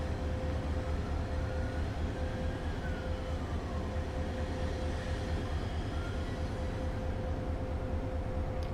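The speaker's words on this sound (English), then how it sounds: "I'm more or less going to allow the train to coast." A train coasting along the track in the game Train Sim World 5 gives a steady low rumble with a faint rhythmic rail clatter and a constant tonal hum. It carries on evenly throughout with no talking.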